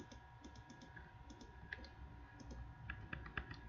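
Sharp mouse clicks in CAD drafting software during a CAT level 2 exam-prep session, several light taps spread irregularly over a few seconds, close and quiet over a low background hum.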